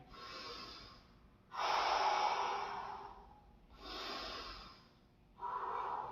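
Heavy, slow breaths after a hard workout, each long exhale and inhale rising and falling in a steady rhythm, close and fairly quiet with no talking.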